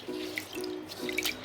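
Water poured over soaked ragi (finger millet) before it goes into a grinder: a steady, close splashing pour with a few drips, and no talk.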